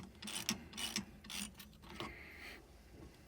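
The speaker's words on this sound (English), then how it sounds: "remove our negative battery cable first." A ratcheting wrench loosening the negative battery cable on a Polaris Xpedition, a few close rasping clicks in short bursts with pauses between strokes, fairly quiet.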